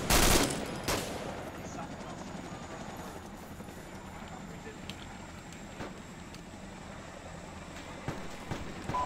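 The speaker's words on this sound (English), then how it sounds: "We're taking heavy fire." A sharp burst of heavy gunfire opens in an ARMA 2 firefight, followed by scattered distant shots and a helicopter-like rumble, with voices talking throughout.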